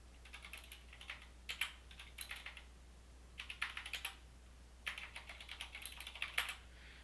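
Someone types on a computer keyboard in short, quiet bursts of rapid clicks with brief pauses between them, heard alone over a low steady hum.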